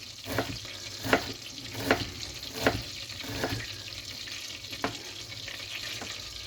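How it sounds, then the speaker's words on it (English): Butter and oil sizzling in a pan while making stuffing: a steady hiss of frying, broken by periodic louder scrapes and stirs, close and clear with no talking. "if you can hear my butter and oil sizzling away nicely there"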